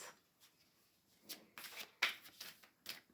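Oracle cards being shuffled by hand, a few quick papery riffles and slaps in short bursts, close and fairly quiet, with no talking.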